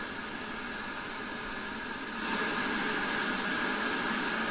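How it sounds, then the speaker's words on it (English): Steady pink noise hisses from a homemade noise generator through an audio amplifier, broad and even, stepping up to a louder level about halfway through with no voices. "Turning on the device, I immediately was able to see the pink noise on the oscilloscope screen"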